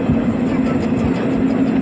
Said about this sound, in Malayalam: ട്രെയിൻ പയ്യാണ് പോകുന്നത്.